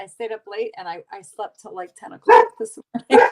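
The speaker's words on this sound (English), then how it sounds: "Sorry about the dogs" Dogs barking indoors at home during an easy Sunday dinner: a couple of loud, sharp barks break in near the end, while a person talks over most of the stretch.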